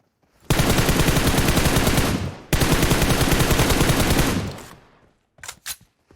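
Two long, loud bursts of rapid automatic gunfire in a video game rattle back to back, followed by a couple of brief short bursts, close and without talk.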